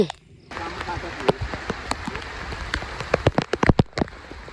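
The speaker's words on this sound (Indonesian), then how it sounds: "Hujan nambah deras kawan-kawan." Heavy rain pours steadily on a surface outdoors during a riverside fishing and foraging trip, dense and continuous, with sharp close drop impacts and splashes growing busier toward the end; a voice speaks briefly in the background.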